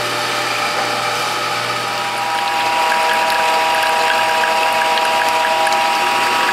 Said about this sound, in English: back it off a little bit and turn on the machine